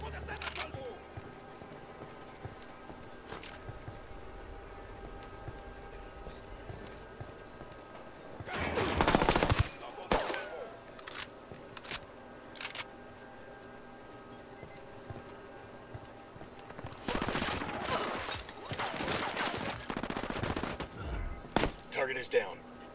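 Gunfire in the Ghost Recon Wildlands co-op shooter: a loud cluster of shots near the middle, then a longer spell of repeated bursts toward the end, over steady background hum with voices talking.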